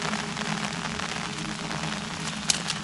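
Heavy rain pours down beside a church and cemetery in an abandoned village, a dense, steady hiss that stays even throughout with no pauses and one faint tap near the end.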